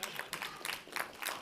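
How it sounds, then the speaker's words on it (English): An audience at a fall town hall meeting claps, scattered clusters of hand claps rising and falling across a short burst, fairly faint and distant. "Yeah, go ahead and clap."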